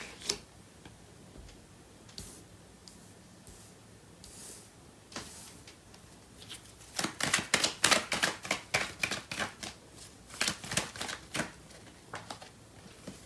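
Tarot cards shuffled by hand at close range: soft taps at first, then a dense burst of rapid riffling flutters, followed by further quick shuffling bursts.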